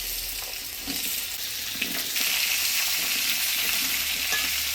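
Potato and pumpkin pieces sizzle in hot oil while being stirred, with a dense crackling hiss that grows a little louder partway through and occasional scraping knocks.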